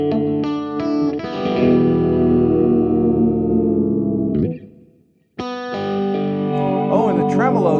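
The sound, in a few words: Fiona SSS Turbo strat-style electric guitar, 10-way switch tones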